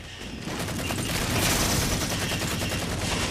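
Rapid pistol fire in the video game Halo 4, Oddball mode, crackling in quick repeated bursts with dense background combat noise throughout.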